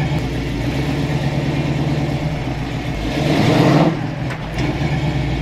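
A rat rod wrecker truck's engine drones steadily while driving down a road, swelling louder as it accelerates briefly near the end before settling back to a steady run.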